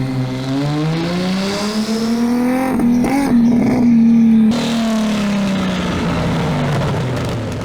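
A 1300-horsepower drag racing car engine revs hard and steadily, its deep harmonic roar rising and dipping through a brief throttle blip before settling into a loud sustained drone, close and alone.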